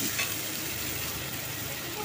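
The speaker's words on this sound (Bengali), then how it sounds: "ভালো করে পেঁয়াজটাকে কষিয়ে নেব।" Onion with cumin, ginger and pepper paste frying in a pan, a faint continuous hiss and sizzle with a soft steady texture and no clear breaks.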